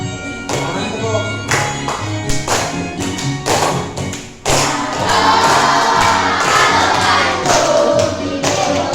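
Children in an Indonesian classroom clap their hands in a steady rhythm along to the song "Halo Halo Bandung" playing loudly, with music and voices filling the room throughout.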